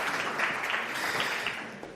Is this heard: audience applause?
yes